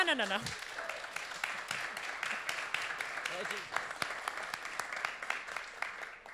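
An audience at a perfume awards finalists announcement claps steadily throughout, a fairly faint, even patter of many hands with some voices speaking over it.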